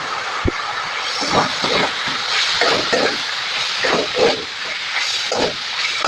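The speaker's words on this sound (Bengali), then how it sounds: "দেখো বন্ধুরা, মশলাটা সুন্দর করে কষিয়ে দিচ্ছি" Spices are sautéed with soybean chunks and boiled potatoes in a pan, giving a steady hiss broken by rhythmic spatula scrapes and bursts of sizzle, close and fairly loud.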